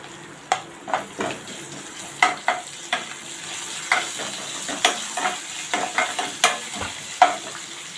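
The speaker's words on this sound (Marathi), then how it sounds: "लसूण आपली चांगली परतून झालेली आहे" Chopped garlic and curry leaves fry in hot oil in a kadhai for besan capsicum, a low sizzle punctuated by regular spoon strokes against the pan, close and fairly quiet, with no talking.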